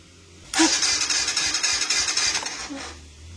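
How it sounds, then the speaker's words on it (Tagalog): A 2020 Kawasaki Rouser NS 125fi motorcycle with fuel injection and automatic choke is started, with a sudden starter whir and the engine cranking in rapid pulses for about two seconds before dropping away, close by with no talk. "Tingnan natin kung andar."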